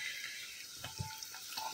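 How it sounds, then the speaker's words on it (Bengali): Ingredients fry in a pan while pulao is being cooked, a faint, steady sizzle broken by a few soft taps and stirring knocks. "এই তো ভাজা হচ্ছে"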